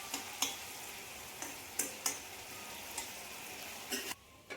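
White brinjal fries in oil after its water has cooked off, giving a soft, quiet sizzle. Light ticks and scrapes of stirring come at irregular intervals.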